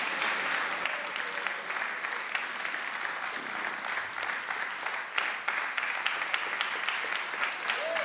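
Studio audience applauding steadily through the whole stretch on a Romanian TV duel show, a dense, continuous patter of many hands with no voices rising above it.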